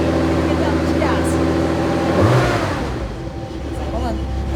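A turbocharged triple-carburetor 1972 Nissan Skyline Hakosuka engine revs loudly nearby, rising and surging under a person talking.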